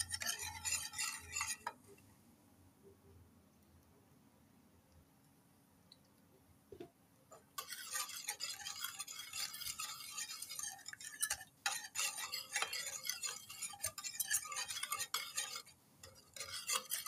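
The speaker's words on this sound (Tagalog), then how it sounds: "haluin muna natin ang ating gulaman" A gelatin mixture being stirred in a pot, with soft scraping and clinking of a utensil that fades to a quiet lull, then resumes in busier, irregular strokes with occasional taps.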